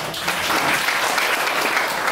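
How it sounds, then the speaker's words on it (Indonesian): A church congregation at a Pentecost service applauds for God, a sustained full wash of clapping from many hands at moderate loudness. "Tepuk tangan dulu untuk Tuhan."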